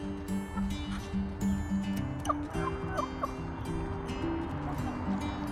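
A flock of chickens clucks and calls steadily at close to moderate range, the voices overlapping in a busy murmur.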